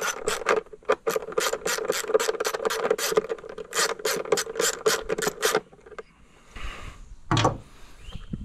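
A ratchet removes bolts from a Suzuki outboard engine cover, giving a close, rapid run of clicking strokes for several seconds before a short metallic clatter and a few scattered knocks.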